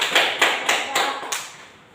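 A classroom group gives a short round of hand clapping: about six distinct, fairly close clap bursts in a loose rhythm, fading toward the end.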